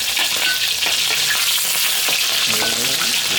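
Fish frying hard in hot oil in a Thai eatery kitchen, a loud steady sizzle and crackle that fills the whole clip, with a few scraping stirs partway through.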